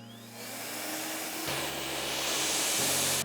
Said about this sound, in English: So I'm gonna move on to this section of hair and blow dry it without any serum